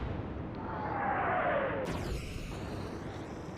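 Naval destroyer gunfire in an Atlantic Fleet video game: a single heavy boom with a falling whistle beforehand, followed by a sharp blast and lingering rumble over steady sea ambience.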